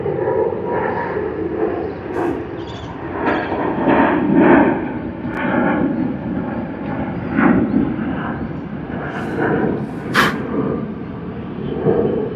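An airliner touches down at Sydney Airport, its heavy engine roar rumbling steadily through the whole stretch with rolling low-frequency swells, loud and fairly close, with no voices over it.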